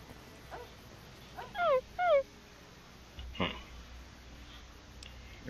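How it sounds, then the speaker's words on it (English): A small dog in the Fallout wasteland video game gives a few high, wavering whimpers and yips, two clear cries close together followed by a fainter one over quiet game ambience. "You're a strange looking little dog."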